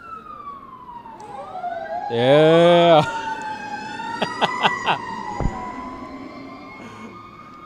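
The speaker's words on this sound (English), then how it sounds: "That dude put on an extra siren as he came by here." An emergency vehicle's siren wails and sweeps as it passes along a city street, with a loud blast of an extra horn-like siren midway and several sharp yelps, while someone briefly speaks nearby.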